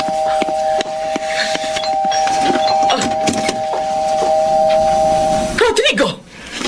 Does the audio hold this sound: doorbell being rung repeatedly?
yes